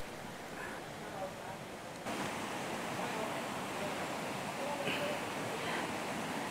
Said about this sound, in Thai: ด้านหน้าของผมเนี่ยฮะเป็นลำธารน้ำตกที่ไหลมาเนี่ยเสียงดังสู้ซ่าสู้ซ่า